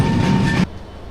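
Train pulling into Sreenagar station on the Dhaka to Mawa line, a loud steady rumble of rolling wagons close by that cuts off abruptly after about half a second.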